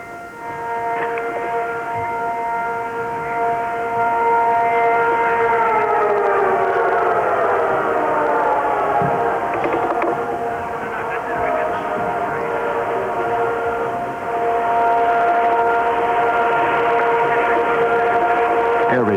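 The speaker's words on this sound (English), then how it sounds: "Air raid sirens in Riyadh, the capital of Saudi Arabia." Air raid sirens wail over Riyadh, Saudi Arabia, at the start of a war, a loud sustained rising and falling tone with layered harmonics that holds for the full stretch without pause.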